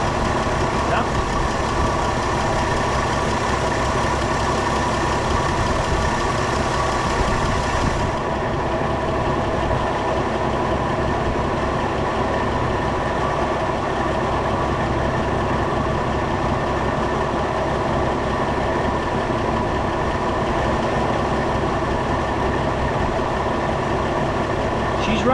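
A 1960-64 Ford Galaxie engine idles without a break, a loud, even mechanical rumble that holds steady for the whole stretch.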